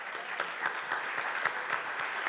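A lecture audience at the 10th International Radio Biennial claps to welcome Dr. Guillermo Orozco, a steady, moderately loud patter of many hands with a few distinct nearby claps.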